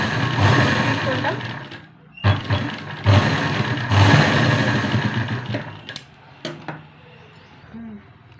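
A sewing machine stitches a saree fall along the very edge of the fabric, its mechanical whir running in bursts with brief stops in between, close and fairly loud.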